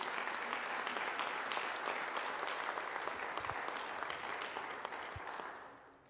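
A church congregation claps for God during a Lenten talk on conversion, a steady, dense wash of applause from a large room, distant and even, tapering off at the end.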